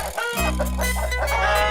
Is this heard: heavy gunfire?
no